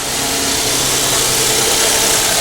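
A Toyota engine idles roughly with a misfire on cylinder 6 and the check engine light on. It gives a loud, steady, close-up mechanical roar with a dense vibrating rumble throughout and no voices.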